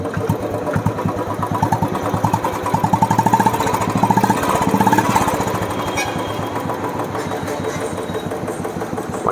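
A 2018 Royal Enfield Standard single-cylinder motorcycle idles with a loud, close, rapid thumping beat that briefly rises in revs midway and then settles back to a steady idle, with no talking.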